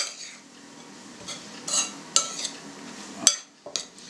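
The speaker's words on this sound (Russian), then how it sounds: "Хорошенько перемешиваем." A spoon stirring processed cheese in a bowl, with scattered scraping and clinking strokes building toward a few sharper knocks near the end, close and moderately loud with no talk.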